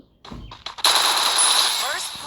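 Rapid automatic gunfire in a shooting video game, a short burst that swells into a loud sustained rattle of shots after a few softer opening pops.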